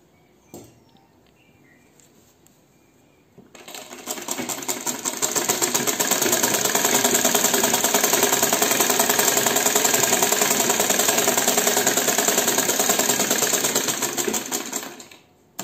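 A sewing machine stitches the folded cloth corner of a dhoti, with a faint click at the start, then a steady, fast, loud mechanical whirr of needle strokes running about eleven seconds before stopping.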